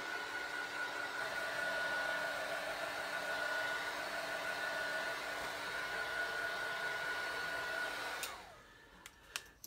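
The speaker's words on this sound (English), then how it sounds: "So just a quick blast just to make sure it's all dry." A heat embossing tool blows hot air to dry ink on a stamped card, a steady loud whoosh with a faint whine that runs for about eight seconds before cutting off, followed by a few small clicks.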